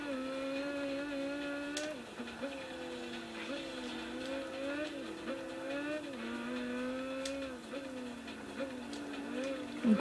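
A McLaren F1 racing car in Gran Turismo 5 holds a loud, steady engine whine that rises and dips in pitch through gear changes and corners, with brief tire-squeal bursts.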